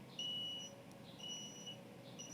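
Repeated short high-pitched beeps from a LAN cable wire map tester after a straight-through cable is crimped, sounding in three evenly spaced tones over a faint steady hum.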